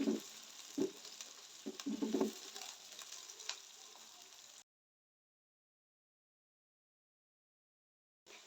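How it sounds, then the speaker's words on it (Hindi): Three roughly chopped medium onions fry in hot oil for a Balochi tikka karahi, with a close sizzle and bursts of crackling and stirring, then the sound cuts to silence partway through. "ये 3 मीडियम साइज के प्याज है, रफली कटिंग किए हुए, ये डाल देंगे। इनको फ्राई करेंगे।"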